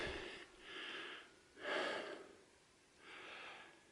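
Hikers climbing a snowy mountain path breathe hard, with three heavy, close panting breaths spaced about a second apart, each a rough, airy exhale over quiet background.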